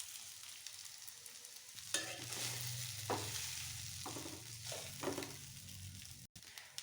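Soaked poha stirred in a pan with turmeric scrapes against the metal in repeated strokes over a low sizzle, several distinct clatters coming in an uneven rhythm, close and with no one talking.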